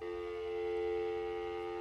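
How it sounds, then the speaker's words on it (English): A mobile phone left ringing in a home study gives a steady, unbroken electronic tone with bright layered pitches, fairly close and continuous, with no one talking. "Yes, that's my phone."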